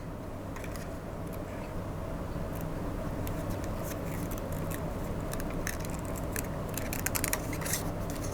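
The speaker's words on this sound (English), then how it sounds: "And then you're just going to cut straight across" Scissors snipping craft material for a Santa ornament, a quiet run of small crisp cuts that grow denser and clearer toward the end, close up with no voices.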